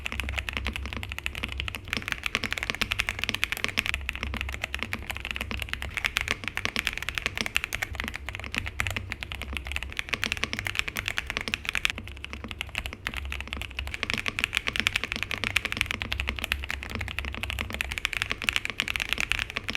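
Continuous, steady typing on a MechLands Feker K75 mechanical keyboard fitted with hand-lubed Gateron Milky Pro Yellow linear switches, a dense run of close keystrokes with no talking.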